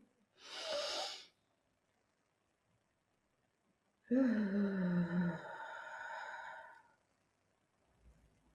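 Deep breathing exercise: a breathy inhale, a pause of silence, then a longer, louder voiced exhale that trails off, close to the microphone.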